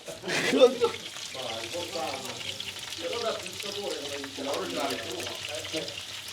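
Rabbit pieces fry in a pan for Ischia-style rabbit, giving a steady moderate sizzle with occasional stirring while someone talks over it.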